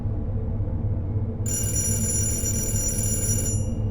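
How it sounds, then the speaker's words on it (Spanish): A house telephone bell rings in one sustained burst of about two seconds, bright and clear over a low background hum. "De pronto el teléfono de la casa sonó."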